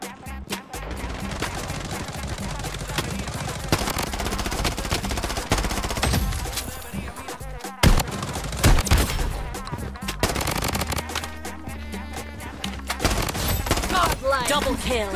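Rapid automatic gunfire from the shooter game Blood Strike, dense bursts and cracks running almost nonstop at close range, with a brief gap midway and occasional talking underneath.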